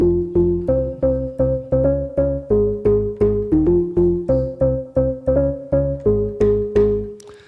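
A synthesized organ riff in the style of Nightcrawlers' "Push the Feeling On," built from stacked upper and lower registers, plays a loud, rhythmic run of short, evenly spaced chords, alone and unaccompanied.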